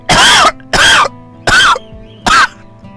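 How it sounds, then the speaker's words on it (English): Four loud, close coughs come in a fairly even rhythm about three-quarters of a second apart, each a harsh burst with a rough throaty tail. "A bit of a cough there."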